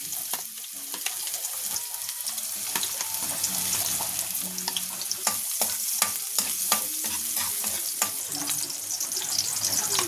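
Garlic sizzling in a hot pan while being stirred for chicken curry, a continuous close crackle with scraping utensil sounds throughout.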